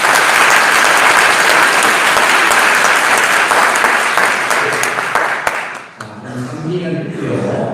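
Hearty audience applause at a Buddhist precepts ceremony for Marine Corps trainees, a dense sustained clapping from a large crowd that fades out after several seconds, followed by someone speaking.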